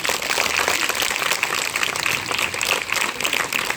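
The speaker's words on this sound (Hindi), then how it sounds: "जोरदार ताली से बेटा।" Sustained applause from an audience at a workshop on juvenile crime and cybercrime, a steady dense wash of clapping throughout, fairly loud and without pause.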